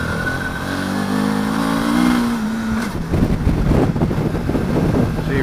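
Suzuki DL650X motorcycle engine pulling steadily, then rising into a rough, revving burst as the rear tyre spins up on a loose off-road surface, close and loud with wind buffeting the microphone.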